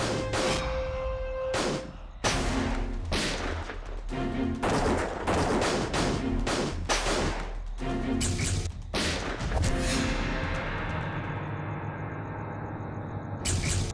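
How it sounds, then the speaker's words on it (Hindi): Heavy gunfire cracks out in repeated loud bursts, some rapid and overlapping, over a constant din of battle noise in a Hindi TV drama. "Keep firing!"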